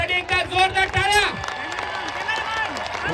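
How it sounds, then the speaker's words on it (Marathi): Spectators at the Anandwadi Champion Trophy cricket tournament clap and cheer for batsman Bhavesh Pawar, the crowd noise sitting under a loud commentator's voice that dominates the first half. "बॅटिंग आवडली असेल भावेश पवारसाठी एकदा जोरदार टाळ्या."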